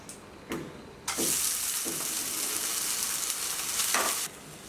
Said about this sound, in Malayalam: ഒരു ടീസ്പൂൺ നെയ്യ് ഒഴിച്ചിട്ട് അതിലാണ് ഞാൻ വഴറ്റണത്.